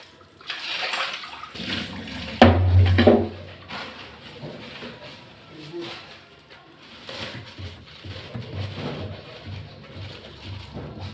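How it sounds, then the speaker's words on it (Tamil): Fish being washed in a pot of water for a fish curry, with close splashing and sloshing in irregular bursts, one sharp clatter, then softer rinsing and trickling throughout. "அடுத்தது மீனை கழுவணும்."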